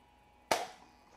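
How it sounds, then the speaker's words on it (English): A BB gun fires a single sharp, close crack at a target outdoors, followed by a brief fading ring and then quiet. "we're out here shooting the BB guns"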